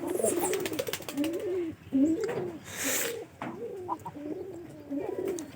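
A pigeon coos repeatedly up close, a soft low rolling call that comes in several phrases with short pauses between them, heard plainly and without talk over it.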